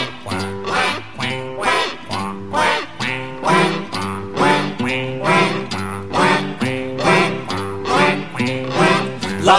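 A rapid, rhythmic run of nasal duck quacks mixed into bouncy music, repeating steadily and fairly loud throughout.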